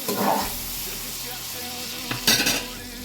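Spaghetti sauce with Haitian spices fries in a pan with a steady sizzle, and a utensil scrapes and clinks against the pan while it is stirred, with two brief louder bursts.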